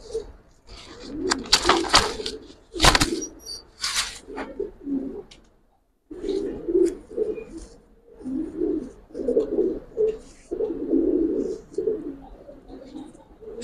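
A female Giribaz pigeon coos in repeated low, throaty bursts at close range, with a few sharper scraping and rustling noises near the start and brief pauses between phrases.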